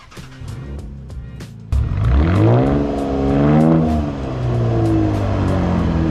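A 2014 Chevrolet Camaro LS engine cranks and catches, then idles before revving up and settling into a steady loud hum close by.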